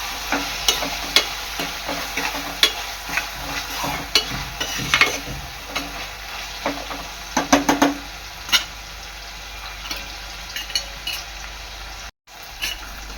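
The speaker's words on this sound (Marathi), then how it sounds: "हिंग कांदा टोमॅटो चांगले तेलात शिजून घ्यायचं आहे" Asafoetida, onion and chopped tomato frying in oil in a pan, a steady close sizzle broken by repeated scraping stirs and light clinks of a utensil against the pan.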